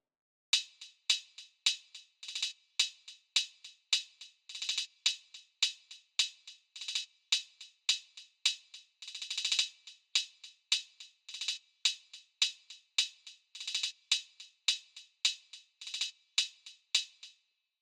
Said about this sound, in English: I've got one hat that's being automated up and down in volume, giving it more of a shuffled feel